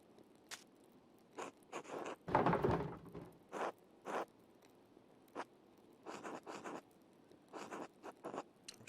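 A quill scratches out a letter in the game Pentiment, short dry strokes and scrapes in irregular bursts with pauses between, quiet and close, one louder rustle midway, no voices.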